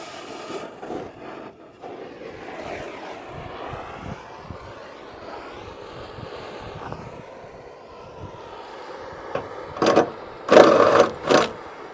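A torch roars steadily as it heats a stuck bolt during a cab swap and exhaust install on a budget dump truck, swelling into several louder, harsher bursts near the end.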